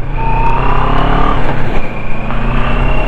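A CFMOTO NK400 motorcycle engine runs loud and close, its steady drone rising in pitch once as it revs, with no voices over it.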